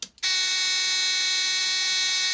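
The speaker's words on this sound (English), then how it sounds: "So that was the buzzer saying, driver, pay attention, you're coming up to a yellow signal." An AWS railway cab warning buzzer on a Sunflower unit sounds after a brief click, a loud continuous harsh electronic buzz that holds steady and close for the rest of the moment.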